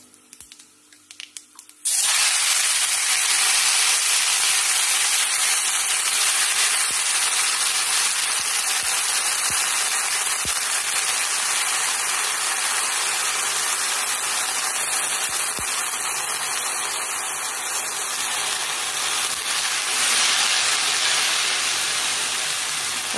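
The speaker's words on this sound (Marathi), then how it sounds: "आता भाजी फोडणी घालते." Chopped onion greens drop into hot oil tempered with cumin and mustard seeds, giving a sudden loud hiss that becomes a continuous, close, even sizzle after a quiet start.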